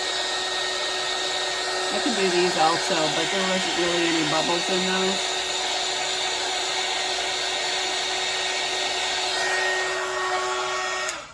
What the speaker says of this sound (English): So I'm gonna get my heat gun out.